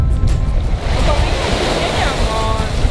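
Sea surf rolling onto Jumeirah beach in Dubai, a steady loud wash of breaking waves with wind rumble on the microphone, continuous across the whole stretch with no clear pauses.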